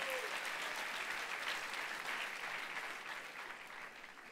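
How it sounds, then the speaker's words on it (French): Dense, sustained applause from a crowd, heard from a slight distance, gradually easing off toward the end. "On applaudit Sam quand même."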